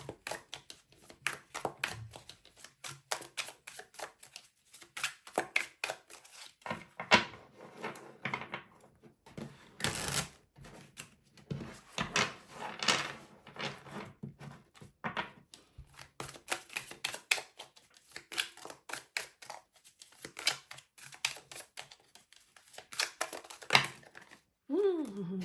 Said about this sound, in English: Now giving the deck a good shuffle.